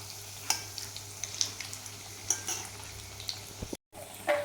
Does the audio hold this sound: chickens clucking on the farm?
no